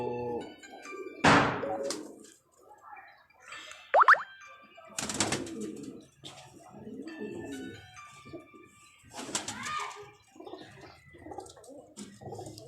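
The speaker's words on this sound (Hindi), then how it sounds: "ये कुछ कबूतर हैं जी, जिनका शौक़ करवाएंगे आपको" Pigeons kept by a hobbyist coo and call, soft throaty coos and a few sharper bursts and wing or body thuds spread irregularly over several seconds, fairly faint and close.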